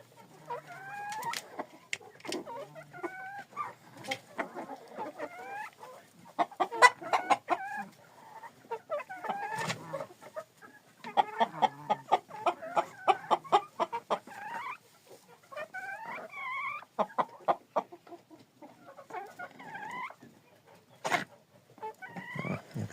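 Chickens and downy chicks cluck and chatter close by in an irregular stream, with sharp chirps and squawks mixed in and brief quiet gaps.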